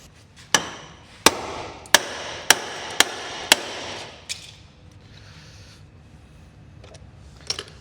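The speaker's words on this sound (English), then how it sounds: "Oh, I need a hammer. Hammer time." Six sharp hammer blows on a brace of a non-running Mercedes CLA 45 land in a steady rhythm, close and loud, then quieter handling noise and a faint knock near the end.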